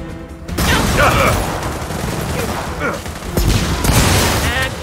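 Heavy, rapid gunfire bursts from Gears of War 4 combat fill the scene, dense rattling shots and mechanical clatter, loud and close and almost continuous from start to finish.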